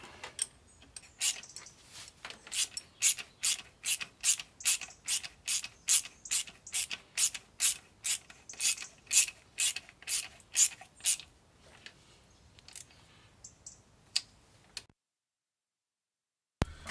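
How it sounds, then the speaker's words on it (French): A ratchet tool tightens a hose clamp on a Mercedes 190 engine, giving a close, rapid run of about twenty evenly spaced clicks that slows, stops, and gives way to silence. "voilà la bride qui vient se mettre ici, on la serre et c'est terminé"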